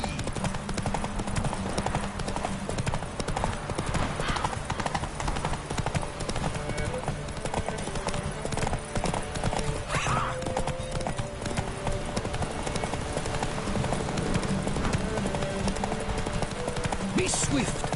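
Galloping horse hooves in the video game El brujo, a steady rapid clip-clop rhythm running loud and close throughout, with a rider urging the horse on and character voices talking over the hoofbeats.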